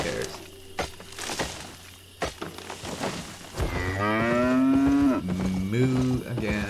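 Cattle mooing in the video game Albion Online: a soft rumbling game bed, then from about halfway in, a long loud moo with clear harmonic bands, followed by a second, shorter moo close up.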